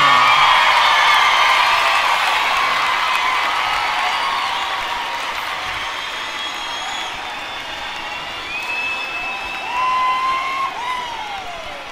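A concert crowd roars with sustained applause and cheering, loud at first and gradually fading, with shrill whistles and whoops rising above the clapping near the end.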